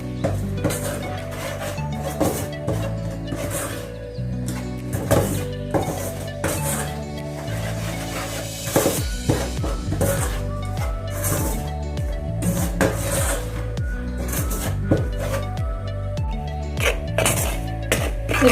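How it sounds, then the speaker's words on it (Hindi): Flour for gujiya roasting on low heat while a utensil stirs it continuously in a pan, producing repeated clinks and scrapes against the metal over a constant background hum, with no one talking. "इसको भी हमने ऐसे ही कंटिन्यूअसली चलाते रहना है और बिल्कुल सिम पर इसे हमें भूनना है"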